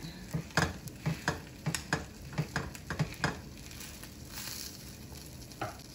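Vegan burger patties cook in a pan, giving a quiet sizzle broken by a run of soft rhythmic taps and scrapes, like a spatula working the pan.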